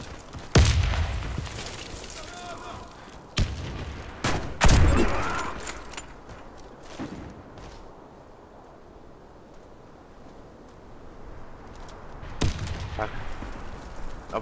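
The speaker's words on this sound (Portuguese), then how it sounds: "Lançando granada!" Grenade blasts and gunfire in the online shooter Warface: a few loud, sharp bursts cluster early, then a quieter windy stretch before another burst near the end, with a player talking over parts of the action.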